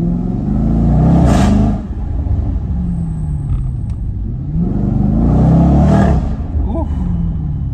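A Jaguar F-Pace SVR held under 3000 RPM gives a loud, deep engine rumble close by, swelling in two strong revving surges with a steady growl between them.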